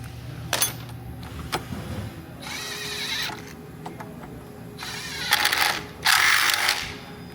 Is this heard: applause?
no